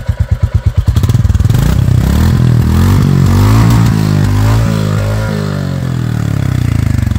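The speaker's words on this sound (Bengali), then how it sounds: "এটা হচ্ছে সেই গাড়িটা যেটা আওয়াজটা আমি আপনাদের শোনাই একটু" A Royal Enfield motorcycle, a 2024 update model, starts up close by with sharp exhaust pulses, then settles into a loud, steady thumping idle with a few rises in revs.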